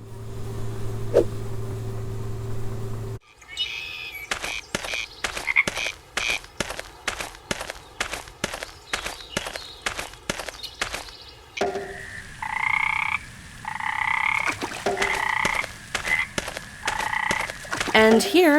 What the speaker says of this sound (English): I hope these are the magic words the frogs are waiting for.